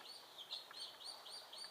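A newly hatched guinea fowl keet, brooded under a turkey hen, gives a string of high, thin, repeated peeping chirps, steady and fairly faint, with nothing else heard.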